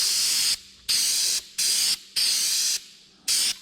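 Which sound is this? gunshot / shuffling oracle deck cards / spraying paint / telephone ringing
spraying paint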